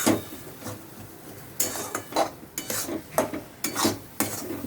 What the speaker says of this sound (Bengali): দিয়ে এটা আমি 2 মিনিট মতন একটু ভাজবো।